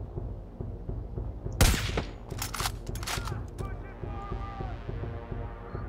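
A sniper rifle fires in the video game Far Cry 5, one sharp, loud shot cracking out over a steady game soundscape, followed by a few weaker impact-like bursts.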